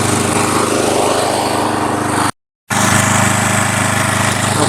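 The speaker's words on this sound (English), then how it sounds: "I had to start the mower for her." A lawn mower engine runs steadily and close by, a loud, continuous drone with a brief dropout partway through and no talking.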